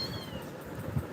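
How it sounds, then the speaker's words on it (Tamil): A kitten gives a faint, high meow indoors, a thin wavering cry near the start over a low room murmur, with a brief lower thump near the end. "மேரிமா, பூனைக்குட்டி."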